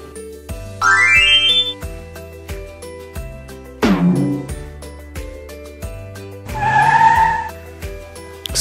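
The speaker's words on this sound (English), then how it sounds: "C for car," A cartoon-style car sound effect with a sharp sweeping skid and zooming tones, three short bursts set over a bouncy children's alphabet song backing.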